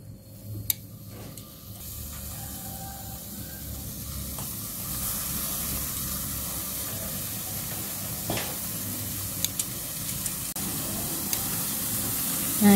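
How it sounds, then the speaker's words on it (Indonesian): Egg-dipped tuna sizzling on a non-stick pan, a steady close frying hiss that builds after a quieter start, with occasional small pops and utensil clicks and no talk. "kita ambil ini ikan tunanya, kita cemplungkan ke telur. Seperti ini, lalu kita panggang di teflon."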